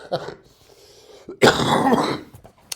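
A single harsh, close cough erupts after a few quiet throat sounds, followed by a brief rasp.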